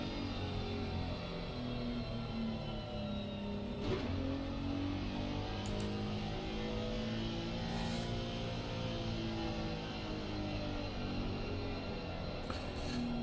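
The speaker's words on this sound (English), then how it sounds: "Cars ghosting through each other on this formation lap." Race car engines from a racing video game hum and drone steadily on a formation lap at Valencia, a continuous layered revving with slight pitch shifts and no distinct peaks, heard without talk.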